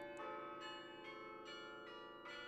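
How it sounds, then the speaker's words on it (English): The 53-bell carillon of Ottawa's Peace Tower rings out, several bell strikes in an even sequence, each tone sustaining and overlapping with the next, quiet and distant-sounding. "The tower houses a 53-bell carillon."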